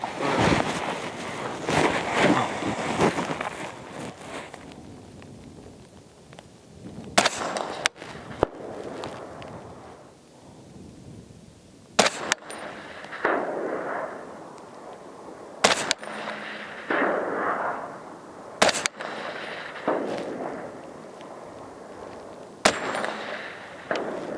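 Rifle shots from a PSA M110-A1 in .308 with Blade black tip ammunition, fired from a Lancer magazine: several sharp loud cracks spaced a few seconds apart over steady outdoor wind noise.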